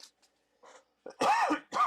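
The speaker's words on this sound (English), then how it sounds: "Only makes it worse if I try to hold on and not cough." Quiet throat clearing followed by two harsh coughs close to the microphone, with brief faint sounds before them.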